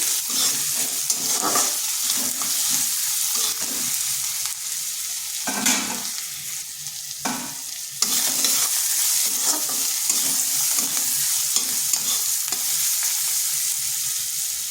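Green chillies fry in hot oil in a pan with a continuous sizzle, broken by scraping stirs and a few louder crackling bursts.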